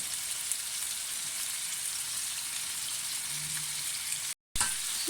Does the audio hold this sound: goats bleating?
no